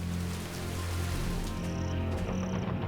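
Steady rain falls during the 1945 Burma campaign toward Rangoon, a dense continuous hiss and patter of drops on surfaces, even and unbroken, with a faint low hum beneath.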